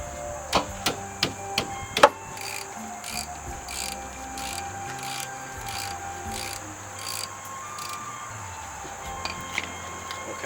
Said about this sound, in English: Now I'm going to take the bottom bracket bolt off.